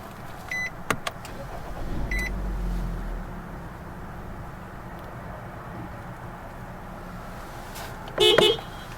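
A 2014 Nissan Rogue SV AWD starts with its push button: a short click and chime, a brief low rumble as the engine catches, then a soft idle hum, and another chime near the end.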